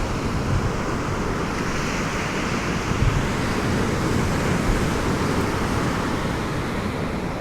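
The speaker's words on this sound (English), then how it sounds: "the waves are really erratic. They're kind of just going at different angles" Stirred-up, foamy ocean waves break erratically on a misty beach, giving a steady wash of surf with gusts of wind buffeting the microphone and no talking.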